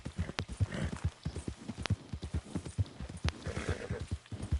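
Horse hoofbeats clip-clop in a steady galloping rhythm while riding in the Western video game Red Dead Redemption 2, close and fairly loud, with faint ambient noise and no talking.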